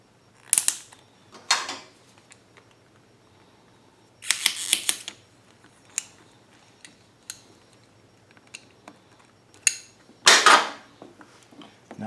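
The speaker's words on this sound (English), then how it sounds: "Put another hose clamp on it." Hose clamp fitted onto the fuel hose of a Westinghouse WH3700iXLTc generator during an extended-run fuel kit install: a few sharp metallic clicks and snaps, separated by quiet pauses, close by with no talking.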